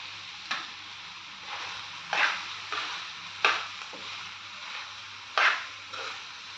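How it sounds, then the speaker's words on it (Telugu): Cauliflower pieces frying in oil in a pan give a soft steady sizzle, broken by a few sharp scraping stirs of a spoon every second or so, close up with no voices. "ఆయిల్ ముక్కల్లో నుంచి బయటకు వచ్చేదాకా వేయించుకోవాలండి"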